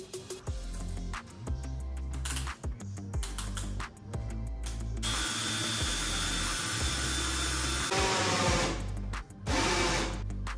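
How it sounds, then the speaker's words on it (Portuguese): A drill fitted with a 35 mm hole saw bores through MDF with a loud, whirring, grinding whine in bursts, stopping and restarting several times. "eu vou utilizar uma serra copo do mesmo tamanho da broca da dobradiça"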